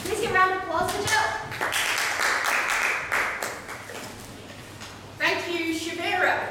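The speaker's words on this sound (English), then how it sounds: "Please give a round of applause for Jill." A roomful of people clap for about three seconds, a brief burst of applause with speaking voices just before and after.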